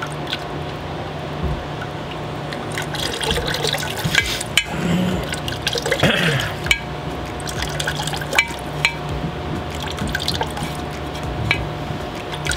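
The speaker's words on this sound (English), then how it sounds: "you watch me just pour this around the edge" Liquid pottery glaze is poured around the edge of a pot, a continuous trickling, splashing pour with small drips, close and moderately loud, with no voices.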